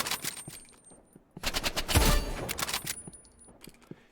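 Rapid bursts of gunfire in a Roblox shooting game crackle in short clusters, with a louder volley near the middle and scattered shots trailing off.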